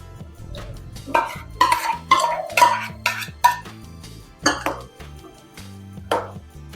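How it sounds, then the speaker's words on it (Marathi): A bowl of curd stirred into cooled rice for South Indian style curd rice, with about eight close, rhythmic scraping strokes against the bowl over a low steady background hum. "तर यामध्ये आपण हे 1 वाटी दही मिक्स करणार आहोत."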